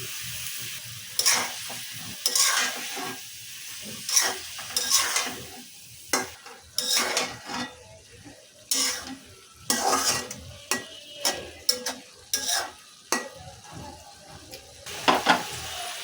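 Shrimp and yardlong bean curry sautés in a pan, with repeated scraping stirs and clinks of a spoon against metal over a soft sizzle, strokes coming in irregular bursts, no talking.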